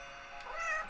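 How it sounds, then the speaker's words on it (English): A pet house cat gives a single close meow lasting about a second, rising and then fading, with no other sound around it. "That's my cat, yeah."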